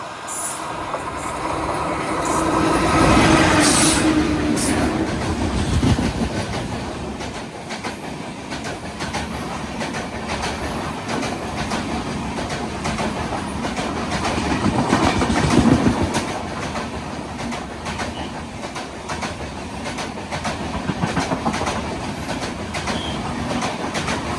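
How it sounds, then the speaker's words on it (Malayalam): The Matsyagandha Express passes behind a WP4 locomotive, a long steady rumble of rolling coaches with rhythmic wheel clatter and occasional faint squeals, swelling as it nears and staying loud throughout. "മത്സ്യഗന്ധ എക്സ്പ്രസ് ഇതാ കടന്നു വരികയാണ്."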